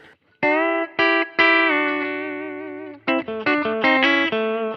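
Electric guitar played with both pickups together through an Ethos Clean amp, with modest reverb: a few sustained chords, then a quicker run of plucked notes and chords, close and clean, with no talking.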